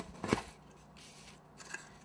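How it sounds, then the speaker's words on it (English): Utility knife scoring and cutting through foam core board: one sharp crunchy stroke near the start, then softer, quieter scraping drags, close and with no talk. "I'm just going to score it here with a utility knife"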